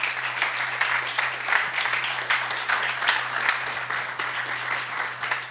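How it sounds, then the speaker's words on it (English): A seated audience at a leadership talk gives a round of applause after a speaker is introduced, a loud, even wash of many clapping hands sustained throughout with no voices on top. "Please, a round of applause for Michal."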